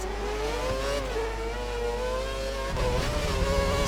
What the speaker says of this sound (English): Ignore the weird engine sounds, that's just the spectator mode being run.